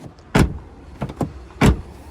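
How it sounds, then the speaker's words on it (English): A damaged used car at a public auto auction has a door that does not shut properly; it thuds closed with a loud slam, two lighter double knocks, then another heavy slam, all close by. "Oh, that door doesn't even shut very well,"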